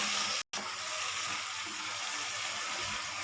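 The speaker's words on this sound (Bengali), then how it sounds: "সর্ষের সাথে একটু জল দিয়ে মশলাটা কষাবেন, তাহলে তিতো হবে না।" Mustard spice paste frying with a splash of water hisses in a continuous even sizzle, broken by one very brief cut near the start; no talking.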